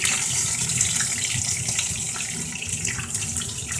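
Potato keema kababs shallow frying in a pan over low to medium heat, giving a steady, close hiss and sizzle that holds evenly throughout with no speech.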